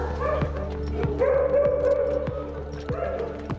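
Several dogs arriving at an animal shelter in Neuburg after being rescued from a German dog owner in poor conditions, heard barking, yipping and whimpering close up in quick, repeated bursts.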